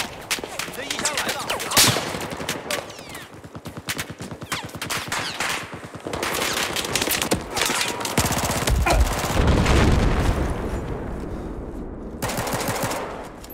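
A FAMAS assault rifle in Battlefield 4 fires rapid full-auto bursts at an extremely high rate, loud and close, with breaks between strings of shots and a deeper blast and rumble near the end. A narrator talks over parts of it.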